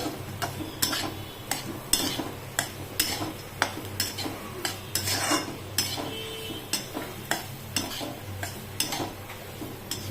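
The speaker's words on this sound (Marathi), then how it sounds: "छान मस्त भाजून घ्यायचे आहेत आपल्याला हे लालसर" Mixed dry fruits for healthy laddus being dry-roasted in a pan until reddish, with a spoon stirring and scraping in a steady series of sharp clinks and scrapes over a low background hum, close and fairly loud.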